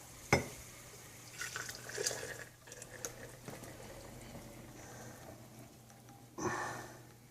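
Boiled maple syrup is poured off into a sterile jar, giving a soft, quiet stream of trickling liquid with a few clinks and splashes, faint and close by, with no talking.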